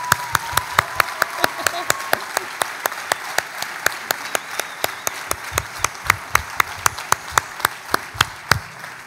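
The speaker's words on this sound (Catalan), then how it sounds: "i ja us demano un aplaudiment també per al seu director, el Joaquim" An audience at a retirees' ceremony claps for the director in a steady, rhythmic unison beat, each clap sharp and evenly spaced, loud and sustained for several seconds with faint voices beneath.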